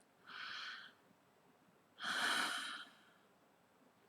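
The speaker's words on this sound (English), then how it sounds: "Now take a deep breath." Two deep breaths in a calm relaxation exercise, a short inhale followed by a longer, louder exhale, both close and soft with no talking.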